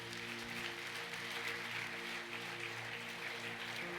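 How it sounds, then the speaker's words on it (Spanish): A church congregation claps steadily together, a dense, continuous wash of applause at even loudness over a low sustained hum. "dale un fuerte aplauso a Dios"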